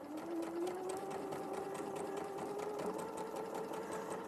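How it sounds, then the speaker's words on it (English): A sewing machine stitches steadily along the bias edge of a quilt square, a continuous fast mechanical whir with rapid needle ticking, close and fairly quiet, heard alone. "sew along this bias edge, and this will give me the last square that I need for this third row"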